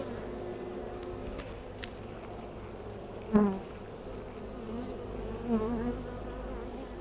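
Honeybees hum steadily inside a hive box being opened for inspection, a constant buzzing drone with a couple of brief louder swells as the frames are handled and no one talking.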